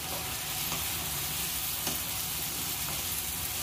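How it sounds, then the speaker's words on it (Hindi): Ground spices and pureed tomatoes fry together for a matar paneer curry, producing a soft, steady sizzle with a few faint stirring taps, quiet and unbroken. "सारे मसालों को एक साथ डालकर भून देंगे।"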